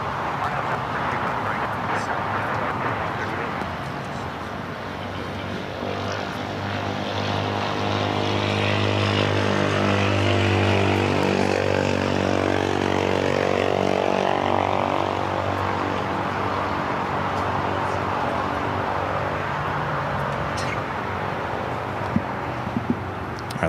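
Airplane taking off from runway 25 right at LAX, a loud steady engine roar that builds and swells in the middle as the aircraft passes close, then gradually fades; heard alone without talking.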